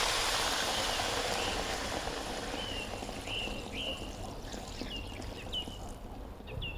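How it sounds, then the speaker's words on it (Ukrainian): Water pours steadily into a pot, a full rushing stream close by, with a few faint chirps in the background. "Усе заливаю водою."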